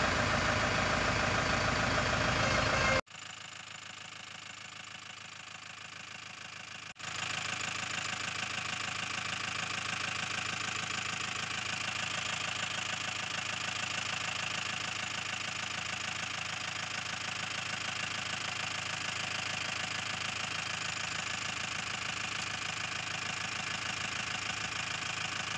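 A Mahindra Bolero engine idles steadily for a long stretch during a clutch check after a slave cylinder change, a close, even mechanical hum with a brief dip in level early on and no talking.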